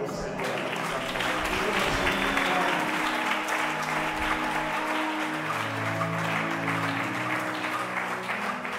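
Church congregation at an evening conference service in Lubumbashi, applauding in sustained, dense clapping that fills the room, with voices mixed in throughout.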